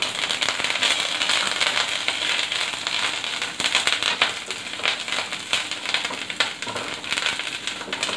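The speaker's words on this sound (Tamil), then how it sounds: "இப்போ நம்ம கருவேப்பிலை போடுறோம்." Curry leaves crackling and spitting in hot oil while Nellikai Thokku, an Indian gooseberry relish, is cooked; a loud, dense, steady sizzle with sharp pops runs close up for the whole stretch, with no talking.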